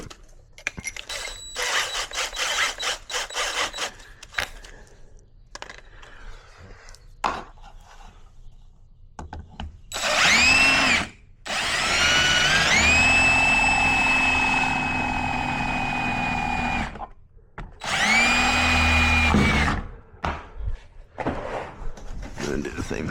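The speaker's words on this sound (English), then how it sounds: "So I'm just gonna kind of place it and drill a hole." Power drill boring a hole in a Jeep JK for mounting chase lights, running in two sustained bursts, a long whine then a shorter one, loud and close with brief speech-free pauses and workshop clatter around it.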